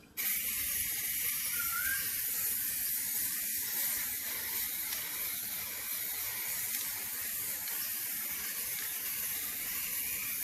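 A spray paint can sprays steadily onto a canvas set on rocks outdoors for an acrylic pour piece, giving a continuous bright hiss with a slight rattling texture, close and unbroken for the whole stretch.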